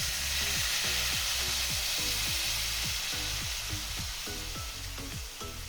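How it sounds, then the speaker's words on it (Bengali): Water poured into a hot pan of titor jhol, a bitter vegetable curry, sets off a loud, continuous sizzle and hiss, close up, with steady bubbling pulses running underneath and no voices. "এবার আমি দিয়ে দেবো জল।"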